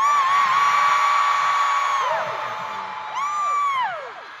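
A large K-pop concert crowd at a TXT Act: Sweet Mirage show in New York screams and shouts in high-pitched, sustained waves, loud and continuous, swelling again after a brief dip.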